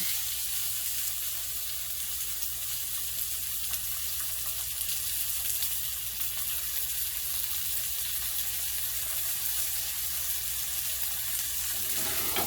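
A tuna steak sears in a hot skillet, giving a loud, steady, unbroken sizzle that runs the whole time with no talking over it.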